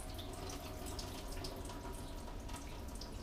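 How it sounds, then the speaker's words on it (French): Rice rinsing water is poured into a kitchen sink, a steady close splashing stream that keeps going at an even level, with no voices. "cette eau de lavage, je la mets bien dans mon évier"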